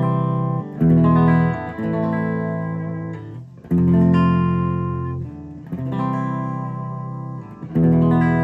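A dry, unprocessed electric guitar signal from a rig plays sustained chords, loud and close, with several strums that ring out and decay before the next one.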